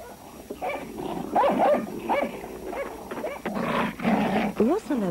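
In an animated series, a dog barks and yips in short bursts over a few seconds while a narrator talks over it, with the barks fairly close and partly masked by the voice.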